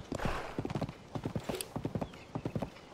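Horse hooves clop in a quick, steady rhythm as a horse trots in the game Tears of the Kingdom, crisp and close, with a faint whinny early on.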